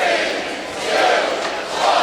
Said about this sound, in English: Here, maybe the crowd counting down.